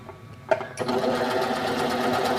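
An electric sewing machine stitches fabric, its motor starting with a sharp onset and then whirring steadily and loudly at close range for about two seconds, with no talking.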